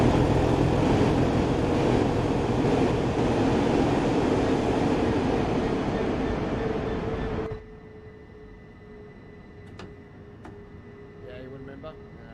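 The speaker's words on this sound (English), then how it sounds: "here comes another train." Train in the Train Sim World 2020 railway simulator rumbling past as a loud, broad roar that cuts off abruptly, leaving a quiet background hum with faint clicks.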